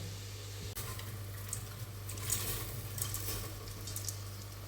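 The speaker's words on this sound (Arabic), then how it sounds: "حطيت مغرفه كبيره تاع المارغرين. دوك نستنى حتى تذوب" Margarine melting in a pot on the stove, a steady close sizzle and gentle frying crackle running throughout with no talk.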